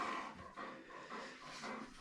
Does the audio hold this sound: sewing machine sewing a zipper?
no